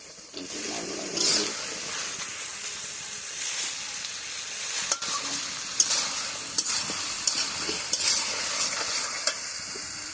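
Bottle gourd sautés in a pan with a constant soft sizzle, while a spatula stirs and taps the pan in a series of sharp, scattered clicks.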